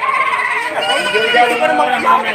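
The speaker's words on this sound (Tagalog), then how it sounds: "Atin ho munang ipapakita sa inyo ang mga klase at mga kambing na dumating ngayon dito sa Padre Garcia." Goats bleating at a livestock market in Padre Garcia, several overlapping close wavering calls mixed with busy crowd chatter and people talking.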